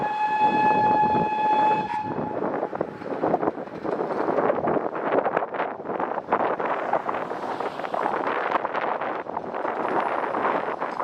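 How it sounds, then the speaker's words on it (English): A steam locomotive whistle sounds a sustained tone for about two seconds, then the train rumbles and clatters past on a narrow-gauge railway, with wind buffeting the microphone. "a high chance that the engine would whistle before the halt"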